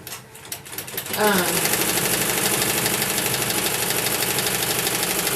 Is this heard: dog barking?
no